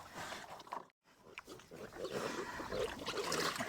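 Piglets on a farm grunt and squeal close by, a busy, continuous mix of short snorts and higher squeals, with a brief silent gap near the start.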